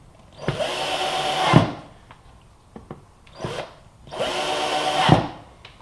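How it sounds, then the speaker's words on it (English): A power sander grinds against wood in two long, loud runs, separated by a pause with a few light knocks. "Do a little sanding and we should be able to wrap this project up."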